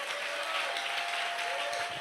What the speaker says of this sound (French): Je dis acclame puissamment le Seigneur.